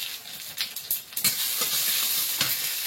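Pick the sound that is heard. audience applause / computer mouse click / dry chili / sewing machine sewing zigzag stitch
dry chili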